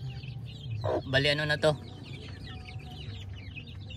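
Five brooding hens cluck softly in the background while a person speaks briefly near the start, then the low clucking continues on its own.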